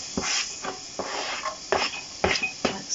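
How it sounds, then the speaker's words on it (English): Carrots and onions hiss and sizzle in melted butter in a jam pan for pea and ham soup, the frying noise coming in short, uneven bursts with scraping and stirring, fairly quiet and close. "with the onions, listen to them sizzle"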